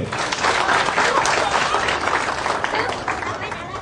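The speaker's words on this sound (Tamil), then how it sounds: "உரிமையாளர் கலைஞர்களுக்கு இன்னொரு பலத்த கைத்தட்டு." An audience at a Tamil urumi melam performance claps loudly for the artists, a dense steady burst of applause with crowd noise and voices mixed in, close and strong.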